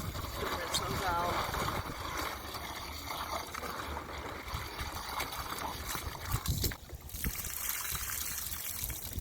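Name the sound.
rinsing koi pond filter parts with water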